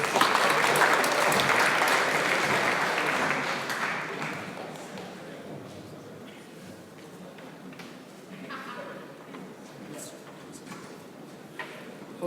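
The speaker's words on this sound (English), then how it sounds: "give a big round of applause to Docu Flow" Applause for a team demo at a hackathon's final presentations, a strong burst of clapping from the crowd that peaks early, then fades to scattered claps and room noise.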